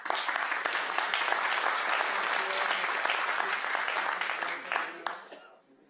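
Meeting audience at a planning commission session applauding a speaker, a dense sustained burst of clapping that holds steady for several seconds before fading out at the end.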